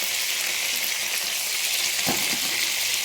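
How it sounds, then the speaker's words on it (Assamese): Onion and potato fry together in a hot pan while a fish posola dish is being made. A steady, close sizzle runs throughout, with a brief stir or clatter about two-thirds of the way in. "অলপ পিঁয়াজ আৰু আলু একেলগে ভাজিছোঁ।"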